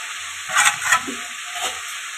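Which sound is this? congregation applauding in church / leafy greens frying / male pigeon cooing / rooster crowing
leafy greens frying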